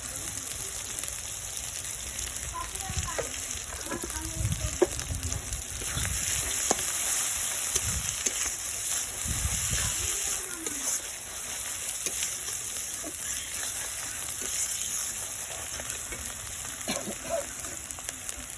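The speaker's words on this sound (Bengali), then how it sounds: "মশলাটা ভালো করে কষিয়ে নিয়েছি।" Ginger and chilli paste with turmeric fries in a pan, giving a continuous loud, close sizzle with occasional scraping stir strokes throughout, no talking.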